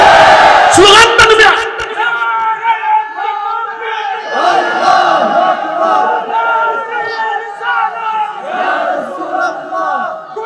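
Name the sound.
crowd chanting slogans at a religious sermon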